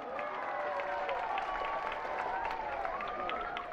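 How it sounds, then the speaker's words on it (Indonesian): A crowd of children at a Sunday school jamboree claps together, a distant, reverberant patter of applause under tonal voices and cheering-like calls. "mari berikan apresiasi dengan tepuk tangan yang sekuat-kuatnya."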